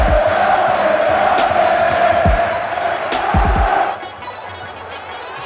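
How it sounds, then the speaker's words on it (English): Loud football stadium crowd at a German cup match roaring and cheering continuously, with chants and shouts rising, then dropping somewhat toward the end; a commentator's voice is faintly under it. "And listen to that crowd."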